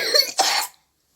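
A short, rough cough from a child, two quick raspy bursts up close, then silence.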